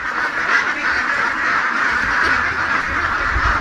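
Many ducks quack continuously and fairly loudly inside a duck house, their overlapping calls forming a dense, steady chorus with no talking.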